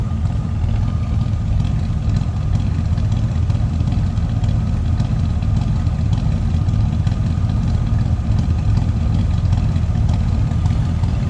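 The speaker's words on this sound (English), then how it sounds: "Nice little deep exhaust note coming out of that" The V8 engine of a 1965 Chevrolet Chevelle Malibu hardtop idles steadily nearby, a low, deep rumbling exhaust note holding an even throb with no talking.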